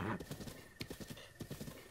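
In Zelda: Breath of the Wild, a horse gallops in rhythmic clip-clop hoofbeats, several quick strides in clusters, fairly faint and close, with a brief whinny-like sound at the start.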